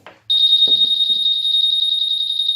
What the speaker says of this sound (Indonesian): Kalau motor disenggol, alarmnya bunyi.